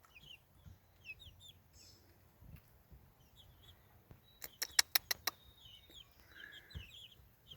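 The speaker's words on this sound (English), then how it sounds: "You can tell the little hens with their feathers sticking up on top of their head." Backyard chickens and hens clucking and chirping near and far, with a burst of sharp, rapid cackles midway among softer scattered calls and occasional bird chirps.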